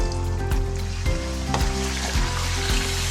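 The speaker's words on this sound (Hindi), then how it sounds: "इसी ऑयल में मैं चिकन डाल दूँगी।" Chicken pieces sizzle in hot oil left over from frying onions for chicken karahi, cooked over a medium flame. The frying is loud and continuous, with regular clunks of stirring every half second or so.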